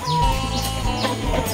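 A broody feather-footed hen clucks in a run of repeated low, throaty clucks, close and clear, with no voices over it.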